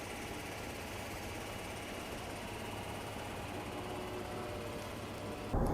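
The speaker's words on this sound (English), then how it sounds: "nothing wrong with this engine, and it just is pretty quiet" A 2020 Ford F-150 with a 2.7-liter EcoBoost engine and 10-speed transmission idles steadily, a faint, even hum with no talking over it.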